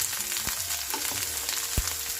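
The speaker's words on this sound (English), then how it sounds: "I'm frying them on both sides, and for about a minute or so" Okra frying in a pan, a steady close sizzle with a few faint pops and scrapes, no talking.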